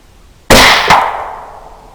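A rifle fires during a night hog hunt: one sharp, loud report followed by a second crack about half a second later, each ringing out and decaying slowly.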